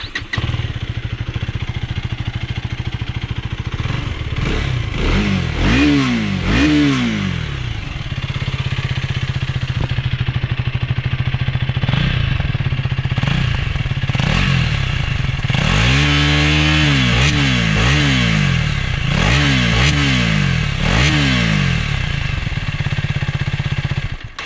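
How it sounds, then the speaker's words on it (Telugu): A 2024 KTM Duke 250 single-cylinder 250cc motorcycle idling, its exhaust rising and falling through several sharp revs in two bursts, loud and close, no speech. "ఎగ్జాస్ట్ నోట్ అయితే వినండి"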